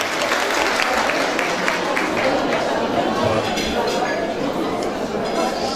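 Applause from an audience at an AK Parti women's breakfast event in Giresun, welcoming a council member candidate to the podium, with clinking dishes and glasses and crowd chatter mixed in at a steady loud level throughout.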